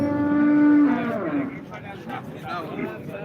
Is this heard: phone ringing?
no